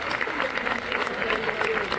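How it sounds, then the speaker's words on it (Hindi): Dense applause from the audience at a Hindi comic poetry gathering (hasya kavi sammelan), a steady wash of clapping that carries on without a break, heard at moderate distance. "भाई एक बार जरा जोरदार तालियां बजा दो साहब"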